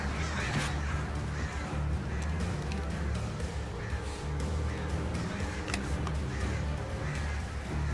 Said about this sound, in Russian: Да идите в жопу, вороны